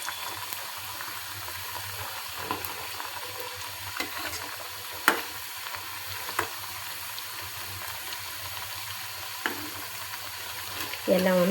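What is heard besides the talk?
food deep frying and being stirred in oil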